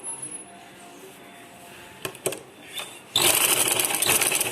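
A sewing machine stitches cloth for a school uniform, starting with a few brief bursts of mechanical stitching before settling into a loud, steady whirring run close by.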